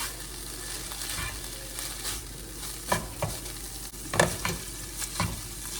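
Cooked ground turkey is stirred in a hot pan for a lettuce wrap filling, giving a continuous sizzle broken by several louder scraping strokes of the utensil, close and with no voices.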